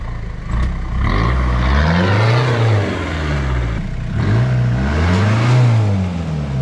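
Toyota Hilux on Kumho MT71 mud tyres revving hard as it climbs out of a muddy section, the engine rising and falling in two long surges, loud and close with no voices.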